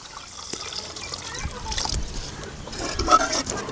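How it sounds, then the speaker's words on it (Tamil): Water used to boil banana stem poured into a pot, a soft trickling and splashing that builds slightly, with a voice speaking over it. "வாழைத்தண்டு வேவிச்சு வச்ச தண்ணி எல்லாமே ஊற்றிக்கலாம்."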